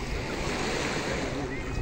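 Mediterranean sea surf washing onto the shore, a steady loud roar of breaking waves mixed with wind buffeting the microphone, with no pauses.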